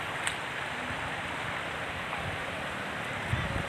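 River water at Daraitan River in Tanay, Rizal rushes in a continuous broadband wash, steady and fairly close, with wind buffeting and a faint voice or two underneath.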